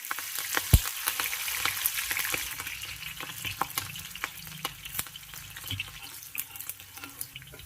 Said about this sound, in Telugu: ఇప్పుడు మనం ఒట్టితుంకలు ఫస్ట్ వేసుకోవాలి. మంచిగా వేపుకోవాలి.